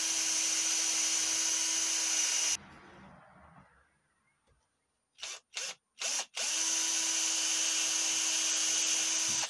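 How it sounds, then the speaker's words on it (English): A power drill drives ordinary wood screws into a hawthorn lathe mandrel: a loud sustained whirr, a spin-down into quiet, three short bursts, then another long whirr. "Screw the screws in, all 3 of them"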